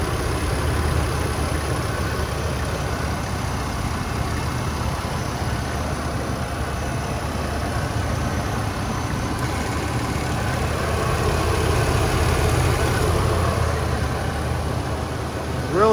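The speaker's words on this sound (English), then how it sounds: "Really quiet, smooth running engine." A 1987 Lincoln Town Car's 5.0-liter multi-port fuel-injected engine idles smoothly and evenly, a steady low rumble with no revving, holding constant throughout.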